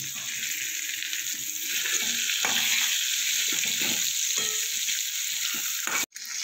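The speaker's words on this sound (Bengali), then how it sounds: "হালকা করে একটু ভেজে নেব।" Aubergine (brinjal) pieces sizzle in hot oil in a pan, a steady bright frying hiss with low stirring knocks and a short gap just before the end.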